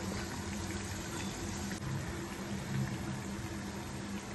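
Masala vada frying in hot oil, a steady faint bubbling sizzle that goes on unbroken for a few seconds with no talk.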